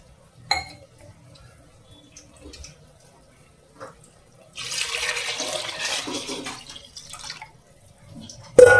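Four tumblers of water poured into a pot for cooking prawn biryani rice, a short splashing pour in the middle after a few faint clinks of a vessel, close, no talk.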